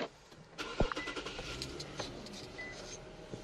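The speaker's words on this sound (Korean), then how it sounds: "이제 바로 시동 한번 걸어볼게요" An Infiniti M37 sedan engine cranks briefly and catches at close range, then settles into a quiet, smooth idle.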